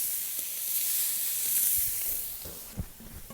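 Scallops searing in a boiling-hot pan give a steady, fairly quiet sizzling hiss, with a few soft knocks near the end and no talk.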